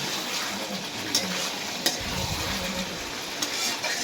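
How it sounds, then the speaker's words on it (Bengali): Bottle gourd is sautéed and stirred in a pan for a taki fish dish, giving a steady close sizzle with a spatula scraping and turning the pieces throughout. "এটা ঠিক মাংসর মতো করে লাউটা কষাচ্ছি।"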